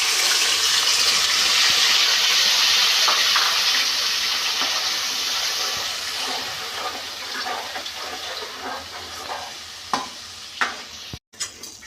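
A paste of onion, green chilli, garlic and ginger hits hot oil and sizzles loudly and steadily, then settles into quieter frying with scraping stir strokes and clinks near the end.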